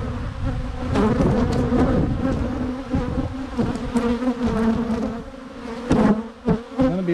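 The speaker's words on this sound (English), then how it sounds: "There's gonna be lots of bees because there's still lots of worker brood in here at hatch." Honeybees buzz loudly around an open hive that still holds plenty of worker brood. The drone is close and continuous, with individual bees swelling and fading as they pass near.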